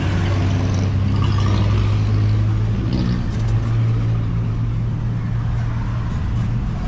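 A car drives along a road, heard as a steady low engine and tyre rumble that stays constant and fairly loud throughout, with no talk.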